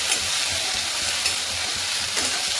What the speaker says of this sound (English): now I am going to add lady finger, and we will mix it well